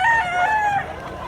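A rooster crows loud and close in one drawn-out call, its harmonic notes carrying across farm background noise with no talk over it.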